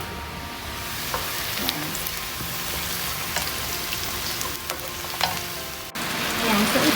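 Chicken and pork pieces browning in a pan, giving a dense, steady sizzle with scattered pops and clicks of stirring, close up, briefly under a single spoken word.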